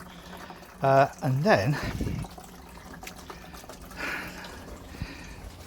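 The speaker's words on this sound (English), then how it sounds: "So I'm going to give this a quick wash out and sanitization" Water splashes and hisses faintly while a fermenter is rinsed out for homebrewed wheat beer, with someone talking briefly over the start before the quiet rinsing continues.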